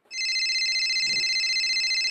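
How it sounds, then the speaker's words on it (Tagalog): A mobile phone rings with a bright electronic ringtone, a continuous pulsing two-tone trill that starts abruptly and cuts off after about two seconds, loud and close, with a brief low thump partway through. "Oh, nag-ring yung phone mo."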